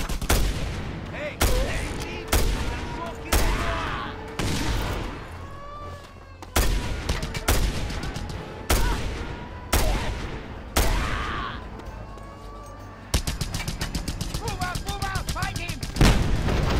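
Gunfire in the action video game Just Cause, loud, close repeated shots in bursts roughly every second, ending in a rapid machine-gun-like rattle, with faint game noise between blasts.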